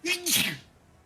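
A single sharp human sneeze with a short voiced intake rising into a breathy burst, close and loud, fading quickly to quiet room tone.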